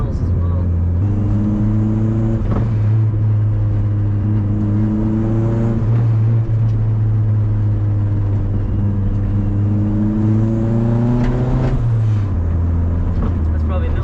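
A stock-tune turbocharged 1996 Honda Civic with a D16Y7 engine and 8 psi boost accelerates hard, its engine droning loudly and steadily with rising pitch through gears, a brief dip near the end, heard from inside the car.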